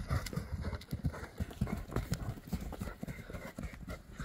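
Horse hooves clip-clopping in a quick, uneven rhythm close by, steady and fairly clear, with occasional voices in the background.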